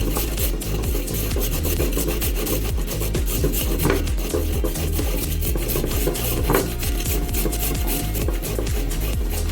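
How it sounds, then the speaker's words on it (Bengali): A peeled carrot is rubbed over a metal grater in a fast, continuous rasping rhythm, loud and close, with steady scraping strokes and no voices. "তারপর একটা গ্রেটারের সাহায্যে গাজরটাকে গ্রেট করে নেব"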